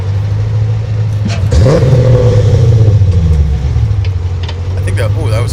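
An LS3 V8 swapped into a Subaru BRZ runs on dyno rollers, a loud deep engine note that climbs in a rev then settles back toward idle, with people speaking over it.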